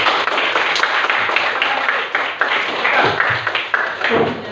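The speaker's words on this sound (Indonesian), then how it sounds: "Tepuk tangan dulu." An audience claps together at a university classroom presentation session in Ambon, with dense, steady applause filling the whole stretch, fairly loud and close, with no talk over it.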